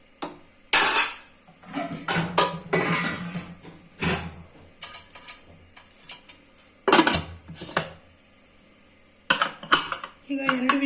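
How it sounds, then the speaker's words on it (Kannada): A pressure cooker lid is handled and closed in a home kitchen while cooking bisibele bath, giving a series of sharp metallic clanks and clicks with quiet gaps between them. "ನೀಟಾಗಿ ಮಿಕ್ಸ್ ಮಾಡಿ ಕುಕ್ಕರ್ನ ಕ್ಲೋಸ್ ಮಾಡಿ ಕೂಗಿಸಿದ್ರೆ ಆಯಿತು"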